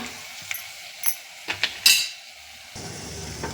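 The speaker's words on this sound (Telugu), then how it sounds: "ఈ పేస్ట్ అనేది పచ్చివాసన అయ్యేంత వరకు మనం కలిపేసుకోవాలండి పచ్చివాసన అయ్యేంత వరకు నూనెలో వేగాలి" Spice paste frying in oil with drumstick pieces in a pan, a soft sizzle under several sharp clinks and scrapes of a spoon stirring against the metal, with a louder hiss starting near the end.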